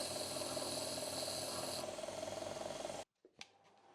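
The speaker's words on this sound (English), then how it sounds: "I'm going to true up the surface of the stone using one of these diamond abrasive grinding wheel dresser things" A diamond dresser trues the face of a grinding stone on a bench grinder, giving a steady, loud abrasive rasp with a whining hum that runs for about three seconds and then cuts off, followed by a couple of faint knocks.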